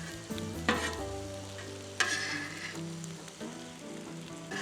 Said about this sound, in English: The onions are still chugging along. So is the steak.